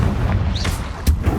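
Confringo fire spell blasting in Hogwarts Legacy inside a cave: booming, explosive game bursts over constant low rumble, with a whooshing sweep in the middle and a sharp hit near the end.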